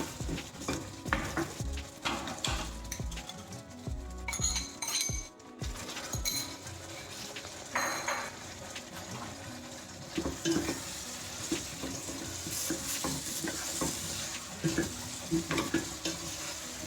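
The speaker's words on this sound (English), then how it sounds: "While this is frying, I'm going to drop in the tomatoes as well." Potatoes and tomatoes sizzle in a pot as utensils scrape and clink against the metal, with a brief lull partway through.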